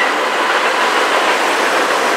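A loud, steady rumbling roar of an empty BNSF military freight train rolling close by, broadband and continuous, with a faint metallic edge and no voices.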